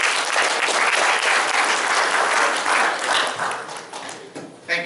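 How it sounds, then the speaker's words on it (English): Audience at a public meeting breaking into a dense round of applause that holds steady and then thins out toward the end. "So give a good round of applause for these folks."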